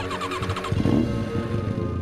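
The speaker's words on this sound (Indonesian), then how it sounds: "Mesin hanya batuk pelan, lalu mati lagi." A motorcycle engine cranks with rapid repeated electric starter pulses, briefly catches with a rough sputter, then fades unevenly and stalls at night.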